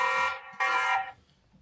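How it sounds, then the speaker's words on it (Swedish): A Tapo C200 security camera, set up for a caravan or motorhome, sounds its alarm siren in two loud, shrill electronic blasts close by, then cuts off into quiet. "Sätta på larm här. Larm på."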